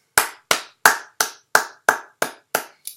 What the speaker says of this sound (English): we are clapping you out